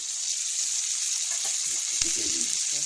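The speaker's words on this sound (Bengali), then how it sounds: "এই যে আলু ভেজে টমেটো দিয়ে দিয়েছি, টমেটো দিয়ে কষানো হচ্ছে।" Fried potatoes and tomato cook down in a pan for egg curry, a steady bright hiss of frying oil with a single clink and a brief stir partway through, close and quiet.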